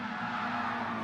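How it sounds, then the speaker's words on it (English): Mini Cooper race cars at Suzuka East spin and scrub their tyres just before the race start, a dense continuous roar of engines and tyre noise with a steady tonal drone. "everyone trying to thrash their tyres a little bit just before they start the race"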